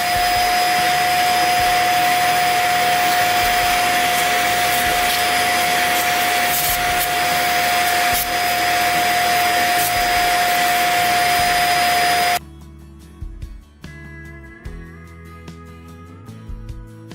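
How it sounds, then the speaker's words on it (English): A vacuum cleaner running loud and steady with a high whine while sucking up dust, then cutting off abruptly and leaving quiet handling sounds. "it is a vacuum cleaner."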